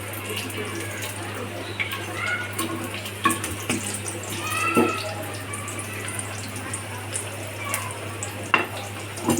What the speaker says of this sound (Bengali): ডুবো তেলে ডিমের পিঠাগুলো ভাজতে হয়।